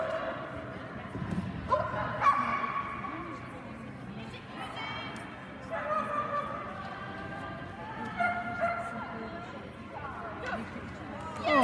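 A dog barks and yips in short bursts during an agility run on a course in Clemson, South Carolina, while a handler and onlookers talk and cheer over it.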